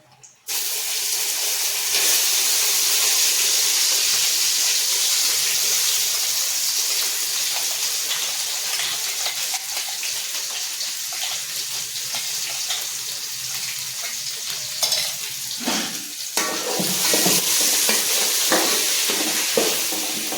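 Ground spice paste, freshly blended in a mixer, hits a hot pan for egg biryani and sets off a loud, steady hissing sizzle that runs unbroken for most of the stretch, briefly dipping near the end.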